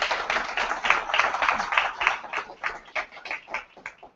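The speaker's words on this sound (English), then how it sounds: "You can clap at that as well." An audience claps in a short burst of applause that gradually thins out into a few scattered claps before fading away.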